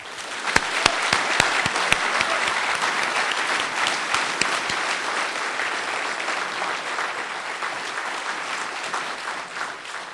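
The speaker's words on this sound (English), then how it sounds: "I really feel we should give one round of applause to our graduates" An audience at a university mathematics graduation ceremony applauds the graduates: loud, dense clapping from a full hall, with a few sharp individual claps standing out early, holding steady and easing slightly toward the end.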